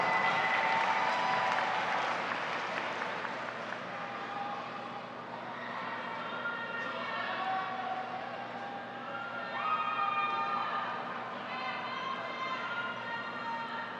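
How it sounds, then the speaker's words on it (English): Audience applause at a 2018 high school graduation ceremony honoring scholars, a broad steady wash of clapping with some crowd murmur and tonal hum underneath, fading slightly midway before swelling again. "please give these outstanding scholars a round of applause"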